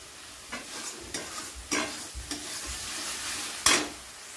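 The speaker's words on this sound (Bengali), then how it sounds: "মশলাগুলো কিন্তু আমার খুব ভালোভাবে কষে গেছে, মশলার গা দিয়ে যে তেল ছাড়তে শুরু করে দিয়েছে" Spice masala frying in oil for a lotte fish curry, a steady close sizzle punctuated by several stirring scrapes and one sharper clatter near the end.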